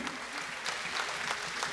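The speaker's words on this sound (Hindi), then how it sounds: "जोरदार ताली।" An audience at an honouring ceremony for a prime minister in Mauritius breaks into loud applause, a thick, continuous clatter of many hands, close and sustained.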